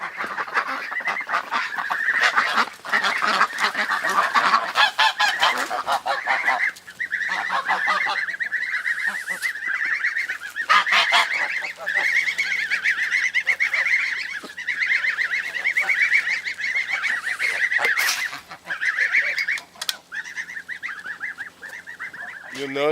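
A flock of geese on a homestead honks loudly and almost without pause, overlapping calls near the listener, with goslings kept back from the group.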